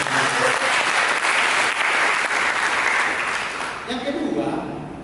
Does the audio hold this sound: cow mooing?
no